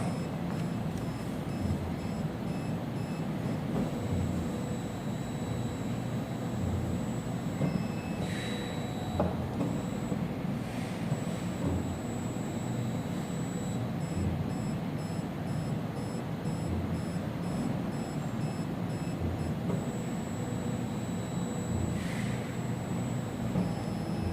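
An ELISA microplate reader running a test gives a steady low mechanical hum, with a few faint electronic beeps and soft clicks scattered throughout.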